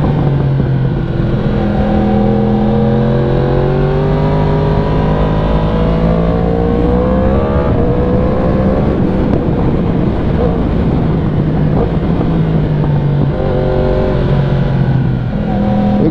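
A 2018 Yamaha R1 sportbike engine on a cold winter hillclimb road, loud and close, with repeated rising and falling revs through gear changes and steady wind rush, no talk.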